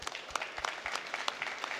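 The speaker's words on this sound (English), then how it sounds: "a round of applause to you all" Audience applause at a corporate welcome event, a brief patter of scattered clapping at moderate distance, thin and short-lived.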